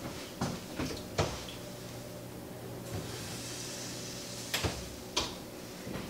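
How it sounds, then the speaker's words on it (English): An apple crisp goes into a home oven: several clacks and knocks of the pan and door sound one after another, with a soft hum under them and a final thud as the door shuts. "let me pop this in the oven"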